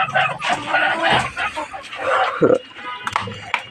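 Chickens and a young chick kept in a home coop, clucking and squawking close by, mixed with a person talking over the birds.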